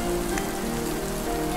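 Rain falls steadily during an outdoor shoot in Vietnam, a dense close patter on surfaces filling the short moment without pause and with no one talking.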